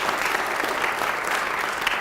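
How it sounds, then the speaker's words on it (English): A school audience gives Officer Kevin Nielsen, a longtime DARE teacher, a burst of loud, dense applause that holds steady throughout. "let's give a huge round of applause"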